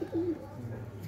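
Pigeon cooing up close, a soft low coo that swells and fades over about a second, in a yard of a pigeon keeper showing off his birds.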